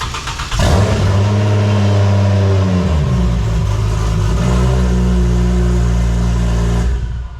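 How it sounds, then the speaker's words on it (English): Following gearbox work, a car engine cranks and catches, then runs loud and steady near the microphone, with a brief rev dip before settling and cutting out at the end. "now I'm going to start it, make sure there's no leaks from that steering box"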